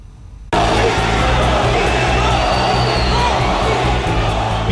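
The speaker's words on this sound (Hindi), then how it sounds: "पीएम मोदी की हर बात पर तालियों की गड़गड़ाहट होती थी" A large crowd of thousands at Madison Square Garden in New York bursts into loud, sustained applause and cheering that starts abruptly and continues at full volume as a dense roar.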